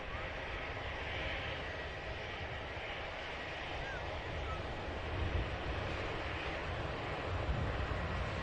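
An EasyJet airliner lines up for departure to Malaga at Manchester Airport, its engines giving a steady, even, moderately distant roar that swells slightly toward the end.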